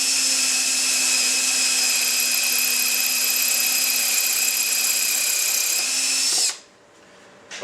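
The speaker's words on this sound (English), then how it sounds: "Drill the center of that head" A power drill fitted with a left-hand bit runs in reverse, boring into the center of a stripped screw head on a UFO orbital floor machine attachment; a loud, steady high whine holds for about six seconds, then cuts off abruptly.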